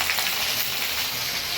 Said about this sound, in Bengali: কড়াইতে তরকারি ছেড়ে দিয়েছি।